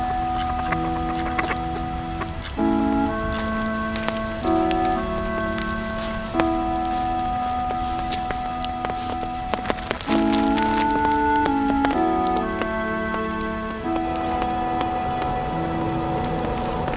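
Heavy rain patters continuously beneath steady background music with sustained tones, a constant dense hiss throughout.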